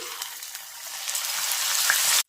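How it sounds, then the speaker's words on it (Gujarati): Whole moong beans fry in hot oil inside a strainer, giving a dense, bright crackling sizzle that swells steadily and cuts off abruptly at the end. "અને તેલની અંદર આપણે સારી રીતે ફ્રાય કરી લેવાના છે"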